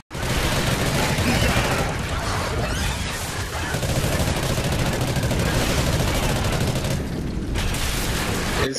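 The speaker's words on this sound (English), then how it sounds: "I'll shoot now." Dense, sustained gunfire from Call of Duty: Ghosts Extinction rattles loud and continuous, with rapid automatic bursts and booming impacts that barely pause. No talking is heard.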